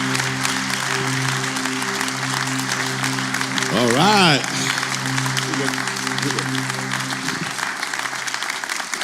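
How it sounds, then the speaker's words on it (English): A church congregation applauds steadily through a Sunday service, broad continuous clapping at close range, with a sustained organ-like musical tone underneath and someone briefly speaking midway. "Come on, let's give him a great hand."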